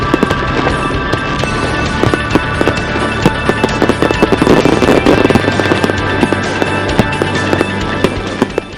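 Fireworks go off at an outdoor festival weekend as a loud, dense barrage of crackling bangs and rapid pops that runs continuously without a break.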